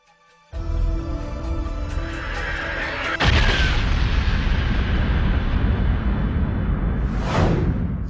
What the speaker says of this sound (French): Cette explosion émana d'un seul point il y a quelques 15 milliards d'années, à partir du néant.